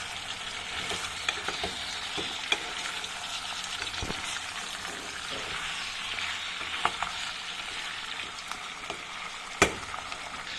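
Chicken for tinola stirred and cooking in a pot, a steady sizzle and bubble with scattered sharp clicks of a utensil scraping the pot.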